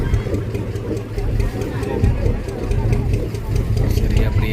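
Boat engine running steadily during docking at an island crossing, a loud low rumble with a ticking rhythm, held throughout with faint voices mixed in.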